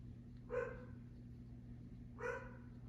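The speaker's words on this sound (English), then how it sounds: "Oh, dogs are barking." Two separate dog barks, about two seconds apart, clear over a quiet low hum, with nothing else in between.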